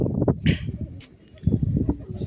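Cheena pigeons coo in soft, throaty bursts close by, a few low rolling calls with a brief pause between them.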